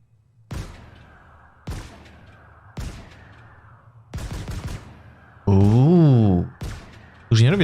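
Gunfire from a video game trailer: sharp single shots spaced about a second apart, each ringing briefly, then a warbling electronic tone and a final loud blast.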